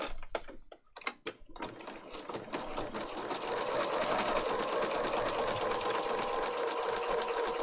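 A sewing machine stitches around a fabric pocket on handmade tags, starting with a few short, stuttering bursts and then running in a steady, continuous mechanical whir.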